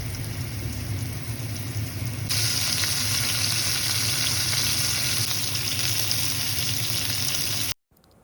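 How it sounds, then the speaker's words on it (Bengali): Potato and eggplant pieces fry in hot oil in a pan, giving a loud, continuous sizzle that swells louder after a couple of seconds and then cuts off abruptly near the end. "তার আগে আলু বেগুনটাকে ভেজে ফেলি ভালো করে।"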